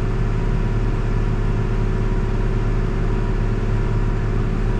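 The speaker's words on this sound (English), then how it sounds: "Let the auger clean out." A grain auger runs to empty the last corn during harvest, a loud, steady mechanical drone and whir, close and unbroken, with no one talking.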